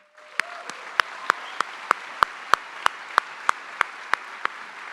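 A crowd at the 2025 Hardrock 100 race briefing claps steadily, a sustained wash of applause with sharp, rhythmic individual claps standing out close by, no voices.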